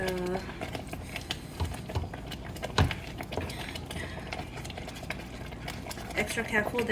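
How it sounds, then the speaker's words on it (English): Semolina for upma being stirred in a hot pan, with continuous scraping and a soft sizzling bed running under a person talking and one sharp knock near the middle. "you're going to just keep stirring it"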